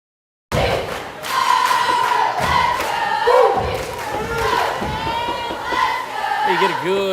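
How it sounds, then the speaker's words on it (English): A gym crowd at a high school basketball game between Rosepine and Oak roars loudly and steadily, with shouts, cheers and a few thuds over a continuous wash of voices. "You get a good look at that crowd that has stuck around for some pretty good basketball."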